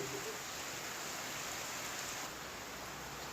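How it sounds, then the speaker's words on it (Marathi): Heavy rain pours outside a rural home where goats have come indoors, a steady dense hiss that fills the whole clip at an even level with no voices. "बाहेर खूप पाऊस पडतोय"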